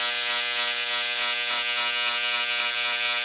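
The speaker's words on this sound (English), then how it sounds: "It's an engraving tool. You can buy it anywhere. Made by Dremel." A Dremel electric engraving tool runs with a steady, close, even buzz that holds for the whole few seconds with no pauses, and no voices are heard over it.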